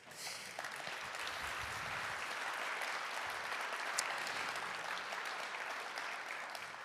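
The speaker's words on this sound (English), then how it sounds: "So they deserve your applause because it's thanks to them." An audience at the closing session of a summit bursts into sustained applause, a broad wash of many hands clapping evenly in a large hall for several seconds.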